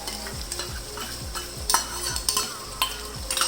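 Mutton and whisked yogurt are stirred in a hot frying karahi, with a spoon scraping in repeated strokes over a steady sizzle.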